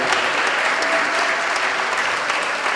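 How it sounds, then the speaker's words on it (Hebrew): An audience at an honorary citizen ceremony in Acre claps dense, sustained applause that keeps a steady level throughout, with no speech audible over it. "מגיע להם מחיאות כפיים"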